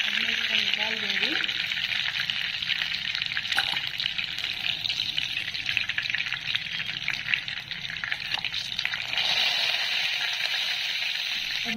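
Pointed gourd (parwal) pieces fry in hot oil with a steady, broad sizzle that holds for the whole stretch, fairly close, with a brief voice at the start.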